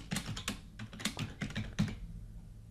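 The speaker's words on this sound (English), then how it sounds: "this is the password that we need to type" Password keys tapped on a computer keyboard during a Windows Server 2019 domain controller setup, a quick, fairly close run of about a dozen crisp clicks with short pauses between them.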